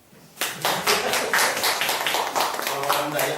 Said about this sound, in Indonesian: Tepuk tangan no.